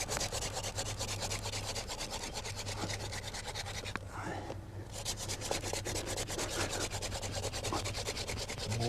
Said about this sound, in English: my hands free to spin the drill